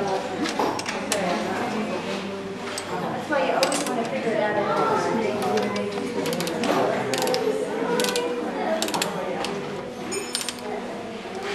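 Ratcheting clicks of a bolt being tightened on the bracket that holds it to the back cane, repeated steady mechanical clicking close by with a busy, cluttered background throughout.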